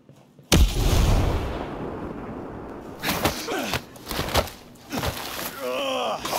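Gunfire in the tactical shooter Ghost Recon Breakpoint, a sudden loud blast followed by a sustained roar and several sharp repeated shots, close and intense, with a brief voice-like sound near the end.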